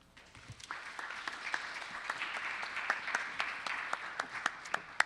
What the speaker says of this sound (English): Let's keep that round of applause going for Kameena.